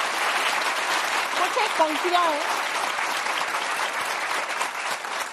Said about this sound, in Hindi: तो एक बार अपने लिए ताली जरूर बजाइए।